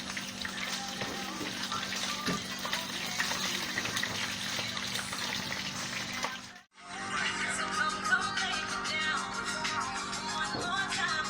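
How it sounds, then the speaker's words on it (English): Pieces of chicken frying in hot oil give a steady, crackling sizzle that runs loud and even, dips into a brief silence partway through, then resumes just as dense. "Fry them out dry."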